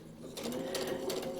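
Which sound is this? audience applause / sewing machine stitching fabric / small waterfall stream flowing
sewing machine stitching fabric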